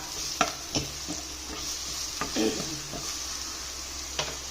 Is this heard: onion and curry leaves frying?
yes